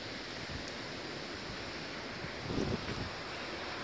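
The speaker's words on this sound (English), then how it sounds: "it's extremely windy out" Strong wind blowing outdoors buffets the microphone with a steady broadband roar, swelling into a louder gust for a moment near the end; no voices.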